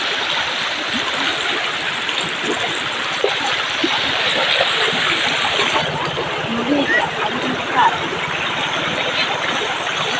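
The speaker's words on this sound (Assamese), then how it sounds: "চাওকচোন কেনেকুৱা বানপানী হৈছে" Flood water rushing across fields strongly and continuously, a loud churning wash with some splashing, and voices talk faintly beneath it.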